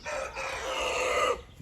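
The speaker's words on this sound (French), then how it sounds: "les jeunes coqs quand ils commencent à chanter c'est pas terrible." A young rooster crows once in a single drawn-out, somewhat ragged call lasting over a second, fairly loud and close, with no talking over it.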